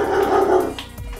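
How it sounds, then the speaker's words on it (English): A puppy growls low and steadily at close range, then breaks into a short bark, all loud and within about a second. "A puppy."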